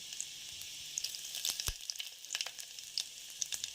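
Dried red chillies and garlic fry in hot oil for a dal curry, giving a light, continuous crackling sizzle with scattered sharp pops and a spoon clink or two.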